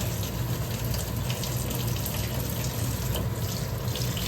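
Running tap water gushes steadily over a tawa pan being rinsed in a kitchen sink, a continuous close splashing wash with no voices.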